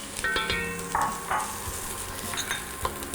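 Diced yellow onion hits a hot pan for cream of cauliflower soup, giving a close, steady sizzle with stirring scrapes and a few brighter crackles throughout.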